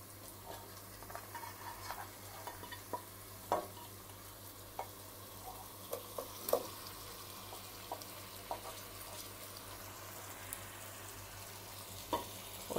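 Boiled, tender mutton frying in a pan with garlic and ginger: a faint steady sizzle broken by soft scattered clicks of stirring, quiet and without talk.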